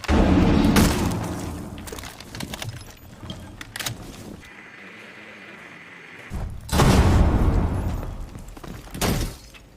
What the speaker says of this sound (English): A lot of soft destruction still going on upstairs, trying to get those upper angles.